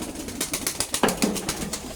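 A young dove kept in a small cage inside a pigeon house gives soft, close, pulsing coos in a brief burst.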